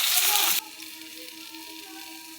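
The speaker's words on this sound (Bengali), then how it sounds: "এই যে বেগুনটা চাপিয়েছি।" Brinjal dropping into hot oil with garlic, dry chillies and nigella seeds bursts into a loud sizzle for about half a second, then settles to a quiet simmering hiss under a low hum.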